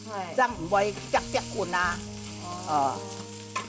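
Lean pork stir-fried in a hot wok gives a steady sizzle and frying crackle under close, continuous conversation between two people.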